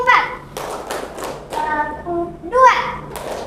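Children in a classroom clapping game clap their hands in short, uneven bursts near and loud, with children's voices calling out between and over the claps.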